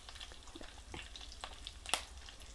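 Steel spoon stirring tomato chutney, seasoned with curry leaves and chili powder, in a pan: faint, scattered scraping and clinking over a low sizzle, with one sharper metallic tap near the end.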